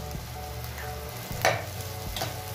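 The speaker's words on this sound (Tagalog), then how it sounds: "So, ayan guys. Sutay-sutay muna natin." Onion sautés in a pan for chicken paella, producing a continuous close sizzle and crackle with a few scraping stirs and soft knocks of a utensil.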